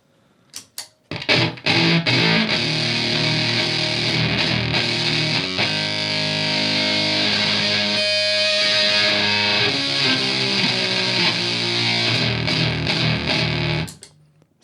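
Keeley Fuzzbender fuzz pedal with gain, attack and treble turned all the way up, a loud, heavily saturated buzzing guitar tone sustained for about twelve seconds after a couple of short plucks, then cut off.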